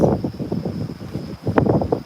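Gusty wind buffets the microphone at an outdoor giraffe enclosure, a steady rough rumble with bursts of louder gusts throughout.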